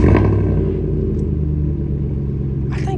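A GMC Denali truck engine idling steadily just after a cold start, a loud low rumble with a steady throb, close to the microphone, with a faint short rattle near the end.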